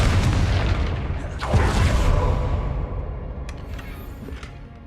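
A loud, booming fiery explosion from the Confringo spell in Hogwarts Legacy bursts near the start, then rumbles and decays over a few seconds, with a couple of sharper pops toward the end.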